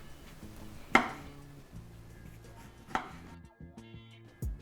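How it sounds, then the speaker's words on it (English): A knife slices through a navel orange on a cutting board, giving two or three sharp, close chops with quiet gaps between them. "navel orange and we are just gonna slice."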